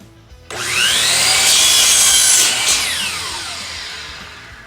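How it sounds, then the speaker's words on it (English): A power saw cuts through a wooden door casing at a measured length, starting abruptly with a loud whining bite into the wood and grinding steadily for about four seconds before easing off, with no talking. "now I'm going to make the first cut on this casing here"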